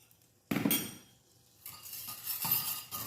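Kue lupis cooking: a cornstarch-and-water mixture is stirred in a pot, a spoon scraping and clinking against the metal in uneven bursts, fairly close, with no talking.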